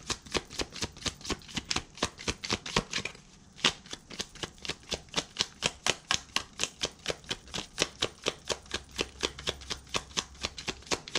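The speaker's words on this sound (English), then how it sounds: "I'm just going to pull one card" Tarot cards being shuffled and a single card drawn: a quiet, close, steady run of rapid card taps and flicks with one short pause partway through before the rhythm resumes.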